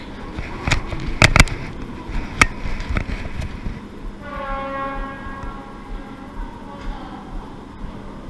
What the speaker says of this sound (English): that's where the train's supposed to be going to Poland